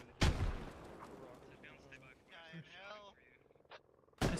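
Grenade blasts in the military video game Squad: a sharp boom opens and another closes the short stretch, with faint gunfire and radio-like chatter between them.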